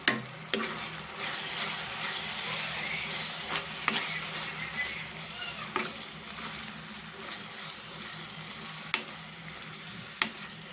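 Chilli powder and coriander powder being stirred in a frying pan: a steady soft sizzle with a spoon scraping and clicking against the pan several times, no talking.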